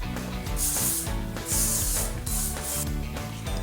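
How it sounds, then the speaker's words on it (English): Bursts of aerosol heat protectant spray on hair hiss in short pulses, several quick sprays close up, over a steady background of soft music-like low tones. "So now I'm just spraying through a little heat protectant to protect the hair from the iron."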